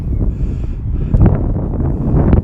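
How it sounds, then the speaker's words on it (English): Low, rumbling wind on a hilltop buffeting a microphone throughout, a steady muffled roar with gusty surges and no speech. "Sorry if it's windy."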